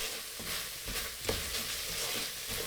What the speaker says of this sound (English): Turn to low heat and stir for 10 seconds.